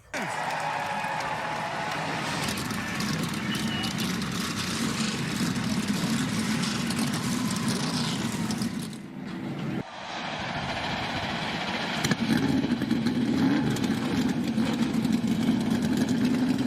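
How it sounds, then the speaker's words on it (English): Race car engines fire up and run together at a stock car race in Charlotte, a steady loud roar of many engines with crowd noise mixed in, briefly dipping before swelling louder again. "Drivers, start your engines."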